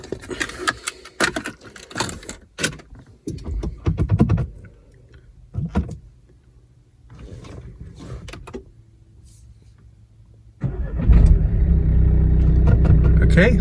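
A 2013 Renault Megane MK3 with a 1.5 diesel engine, fresh from a clutch replacement, starts up near the end after scattered clicks, rustling and a few voices, then settles into a loud, steady close-up idle.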